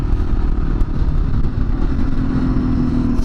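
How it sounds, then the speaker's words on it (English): A dirt bike running on its stock exhaust during a ride in strong wind, a loud steady engine drone close by with rough clattery texture, wind noise mixed in. "Stock exhaust sounds alright."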